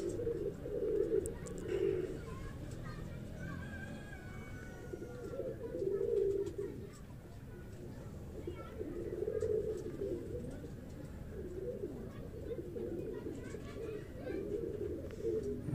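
A pigeon coos in repeated low, soft phrases a short way off after a long flight, with faint chirps from other birds in a quiet outdoor setting.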